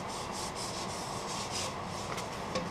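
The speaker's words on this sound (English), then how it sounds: "putting glue in the little cracks and sanding lightly over it" Close, steady rasping of sandpaper rubbed back and forth over a wet, spalted alder bowl in short even strokes.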